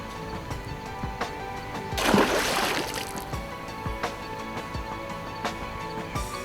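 A barramundi caught at El Questro Station in the Kimberley is released back into the water, making one broad splash and swirl in the middle of the clip, set against steady outdoor ambience and faint knocks.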